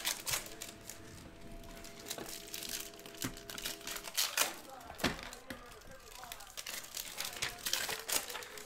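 2019-20 Panini Prizm basketball trading card packs being ripped open, with dense crinkling and tearing of foil wrappers in repeated bursts and crackles, close up, mixed with intermittent talk.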